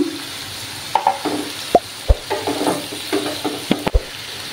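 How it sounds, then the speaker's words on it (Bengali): Spices and slit green chilies being sautéed in a pan for a fish curry, a close, loud sizzle broken by sharp spatula scrapes and clacks against the metal at irregular intervals. "আমি মশলাগুলো দিয়ে দেবো। দিয়ে ভালোভাবে কষাতে হবে। চেরা কাঁচা লঙ্কাগুলো দিয়ে দিলাম।"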